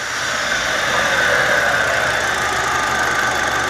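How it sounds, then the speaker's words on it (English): An Audi A4 Quattro 2.0L FSI direct-injection engine idles with a steady, loud ticking clatter over a constant mechanical hum, with no fault present, and no one speaks. "This is the normal sound of these engines because it's direct injection."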